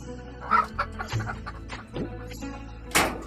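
A hen on a free-range village poultry farm clucks a few short times at close range, with other farmyard sounds and a sharp burst near the end.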